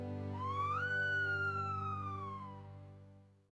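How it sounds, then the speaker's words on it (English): A single rising and falling siren wail from an ambulance, steady and moderately loud, fading out over a few seconds with no voices. "An ambulance?"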